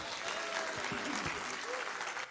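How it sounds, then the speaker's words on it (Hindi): Applause from a mushaira audience at an All India poetry gathering in Delhi, a dense steady wash of clapping filling the whole stretch, with faint crowd murmur beneath. "तो आप तालियां बजा देंगे"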